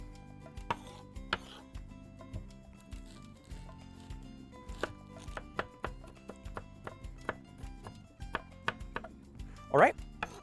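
Knife chopping onion on a cutting board, irregular sharp taps at varying pace, close and clear, with a brief louder scrape near the end.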